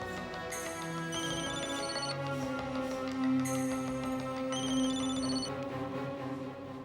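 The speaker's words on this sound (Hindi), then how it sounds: "लो, उनका ही फोन है।" A telephone ringtone plays loud and alone in a drama scene, an electronic melody of repeated tonal phrases with a sustained tone under it, ringing through in two bursts.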